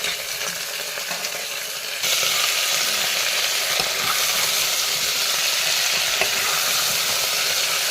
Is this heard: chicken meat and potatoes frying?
yes